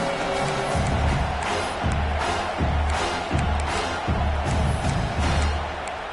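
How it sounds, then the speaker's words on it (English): A dense football stadium crowd roars continuously, with rhythmic low thumps and swells of noise rising throughout, loud and sustained with no clear speech. "the crowd really making some noise now, trying to help out this defense"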